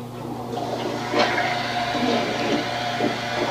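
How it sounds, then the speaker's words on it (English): A toilet flushing after a cola cleaning treatment, a steady rushing swirl of water with a low hum, close and continuous throughout with no talk. "Alright, go ahead, flush it."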